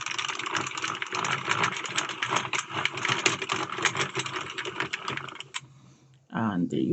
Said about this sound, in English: I cut my yarn and then I just crank it until it falls from the machine